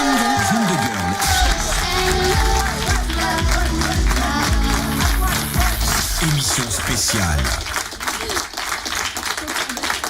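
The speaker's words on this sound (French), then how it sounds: "Elle arrive pas à s'y faire aux gens qui applaudissent." Studio audience applauding and cheering at a regional radio show, dense sustained clapping with crowd noise throughout, music and talk mixed in.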